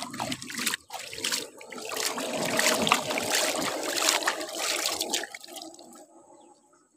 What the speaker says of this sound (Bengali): এই যে হাতটা ধুয়ে নিচ্ছি